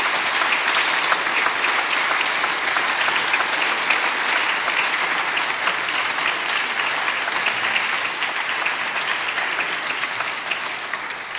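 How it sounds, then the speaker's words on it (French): Sustained, dense applause from a large audience at a conference on monastic spirituality, steady and even for the full length before tapering slightly at the end, with no talking over it. "je voudrais qu'on les applaudisse très fortement"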